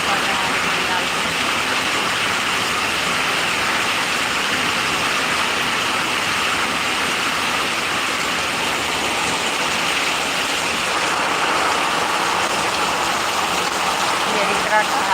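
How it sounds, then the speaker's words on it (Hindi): Torrential rain hammers down in Rishra, Kolkata, a thick continuous wash of water noise, loud and steady from start to finish, with a faint engine-like rumble beneath. "इतना तेज पानी पड़ रहा है,"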